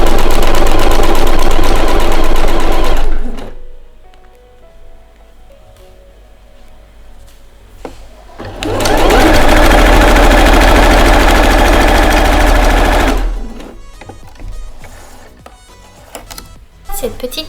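A sewing machine runs in two loud, steady bursts of several seconds each, stitching a small seam on a fabric bib, with quieter handling noises in between.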